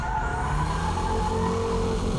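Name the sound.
car performing a braking drift with tire squeal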